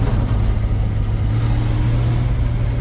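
A 1963 Ford F100 pickup engine drones steadily while driving, a constant loud low hum with road noise and no pauses.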